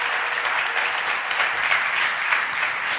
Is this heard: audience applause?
yes